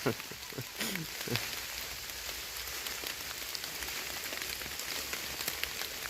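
Steady rain patters on a surface nearby, a soft constant hiss; a voice speaks briefly outdoors on a hunting trail before the rain continues alone.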